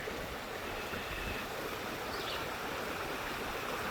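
Steady rushing water of a stream flows continuously close by at a campsite in the Ouachita Mountains, a broad even wash of sound with no voices.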